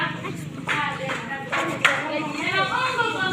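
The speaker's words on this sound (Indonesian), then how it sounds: "tepuk tangan untuk kelompok 1 dan 2" Classroom applause for groups 1 and 2 during a micro-teaching practice session, with several bursts of hand clapping from a group of students under a teacher's voice, fairly close and moderate in volume.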